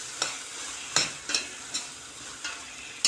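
Onions sauté in a pan with a soft, even sizzle, punctuated by about six brisk stirring scrapes at irregular intervals, close and fairly quiet, no voices.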